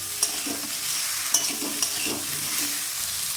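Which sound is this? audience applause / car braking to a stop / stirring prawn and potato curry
stirring prawn and potato curry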